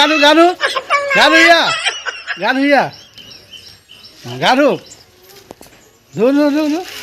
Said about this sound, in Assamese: এইটো আমাৰ পোৱালি, আমাৰ গা ধুই আছে।